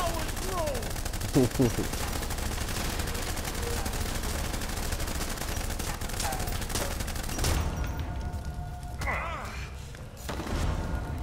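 Gunfire in the Blues & Bullets video game, a dense rattle of shots running continuously under a shouted voice, thinning toward the end with a few sharp reports.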